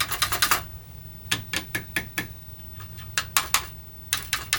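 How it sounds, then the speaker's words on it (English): A Radio Shack TRS-80 Model 1 keyboard being typed on: sharp, close clacking keystrokes in irregular bursts, a quick run of taps followed by scattered single presses and short clusters, with a faint electronic hum underneath. "if we hit the keyboard,"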